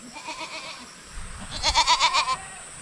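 A goat newly tied on a leash bleats in a series of wavering cries, the first few softer, then a louder run of several close, quavering bleats with no talking.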